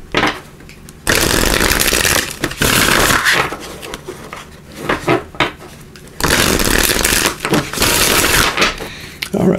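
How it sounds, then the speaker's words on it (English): Oracle cards are shuffled in loud, dense rustling bursts, close up, with short pauses between rounds and speech mixed in. "Let's get a piece of shuffle here."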